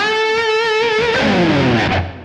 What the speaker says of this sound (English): an awesome whammy bar technique called the scoop